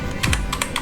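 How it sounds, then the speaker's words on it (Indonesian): Close computer keyboard typing code, a quick burst of crisp key clacks in an uneven rhythm with no voice. "Pertama kita ketikkan"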